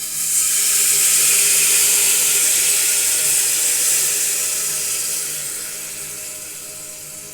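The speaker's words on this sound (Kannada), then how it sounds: "ಈ ಟೈಮಲ್ಲಿ ನಾನು ಹುಣಸೆ ಹಣ್ಣಿನ ರಸ ಹಾಕ್ಕೊತಾ ಇದ್ದೀನಿ." Tamarind juice is poured into a pot while making cumin-pepper rasam, giving a steady, close liquid hiss that gradually fades toward the end.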